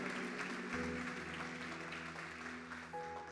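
Church congregation applauding during a Sunday evening celebration service, a dense, steady wash of clapping that carries on throughout, with a sustained keyboard or organ chord sounding underneath.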